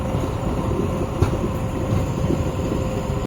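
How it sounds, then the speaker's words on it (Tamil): The Shoranur–Ernakulam MEMU passenger train pulls away from the station with a steady, loud, close rumble and rolling noise that holds evenly throughout. "ஷொர்ணூர் எர்ணாகுளம் மெமோ பார்த்தீங்கன்னா டாட் ஆன் டைம் 4:30 கிளம்பிடுச்சுங்க"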